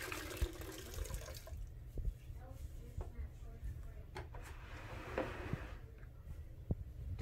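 Water splashes and trickles in a rinse bucket while lead dust is cleaned up. The sound is soft and close, a steady wash with a few drips, and a faint voice can be heard at times.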